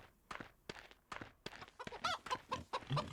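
Chickens cluck in a farmyard in the Wild West Dynasty video game, with a run of short, rhythmic calls that turn louder and more insistent toward the end, heard clearly with no talk.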